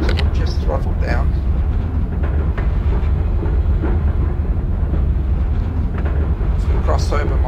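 A train engine rumbles steadily with a continuous low drone and clattering in Microsoft Train Simulator, as the throttle is eased down, with talk heard over the mechanical noise.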